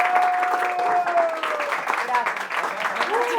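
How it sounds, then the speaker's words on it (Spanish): An audience at an evening café event in Caracas breaks into steady applause, a dense wash of clapping that fills the room. "démosle un aplauso a Jaira Navas, por favor"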